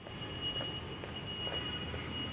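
A Chennai Metro train rumbles along at a steady level, with a sustained high metallic whine and faint rhythmic wheel clicks, no voices.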